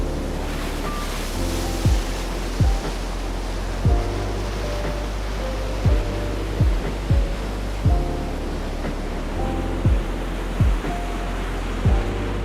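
Ocean waves break on a beach in a steady roar of surf, with rough wind buffeting the microphone and a series of low thumps recurring every second or two, no voices present.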